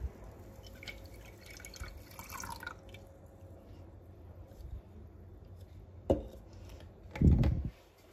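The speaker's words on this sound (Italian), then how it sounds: "Poi prendiamo l'acqua e il lievito già sciolto, che dovrebbe essere già sciolto" Water with dissolved yeast is poured into focaccia dough ingredients in a bowl, heard as a brief splash and then a short, louder pour near the end after faint drips and handling.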